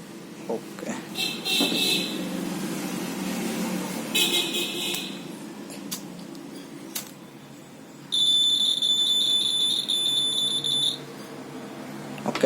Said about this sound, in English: this is output from buzzer